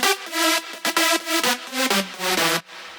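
Four layered synth leads in an FL Studio big room drop, reverb-washed and bright, playing a rhythmic chopped melody with short breaks, loud and upfront with no voices.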